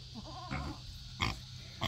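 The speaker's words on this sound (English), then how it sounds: "Aww, little piggies." Pigs and piglets grunting, with several short, soft snorts and grunts over a steady low background hum, close by and fairly quiet.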